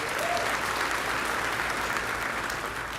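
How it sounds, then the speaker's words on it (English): Steady, sustained applause from a large audience at a university commencement ceremony, a dense wash of clapping filling the hall throughout, without speech. "A round of applause for all of our stage parties, please."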